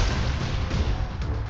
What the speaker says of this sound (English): how many more cannon shots did we take?